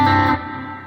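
Guitar note ringing through a plate reverb effect, a loud sustained tone that cuts off and leaves a smooth decaying tail.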